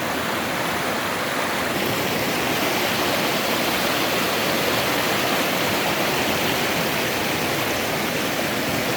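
A swollen creek beside a 1930s mining cabin rushes loudly and without pause, a dense, steady roar close by with no talking.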